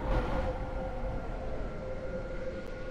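A three-coach train in the Roblox game Stepford County Railway rumbles with a steady low running drone and a faint tonal hum, continuous and even, with no voices.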